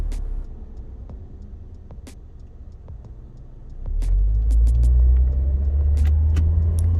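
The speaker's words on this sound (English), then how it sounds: "it's a bit loud when you use your lower gears" Car engine revving hard in a low gear during an uphill start in Burnaby, B.C.; a quieter idle-like rumble swells partway through into a loud, steady low roar, with faint ticks overhead.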